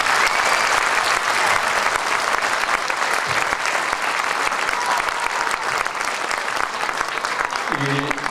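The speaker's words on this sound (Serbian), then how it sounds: "volio bih jedan aplauz za sve" Steady, dense applause from an audience at a folk ensemble's annual concert, sustained and loud throughout with a hint of voice near the end.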